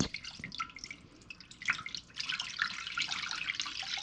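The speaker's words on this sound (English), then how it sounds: "Once that's ready, you're going to pour that into a pan" A vinegar and water mixture poured into a pan, a splashing, trickling stream of liquid that grows fuller and steadier toward the end, close by with no talking.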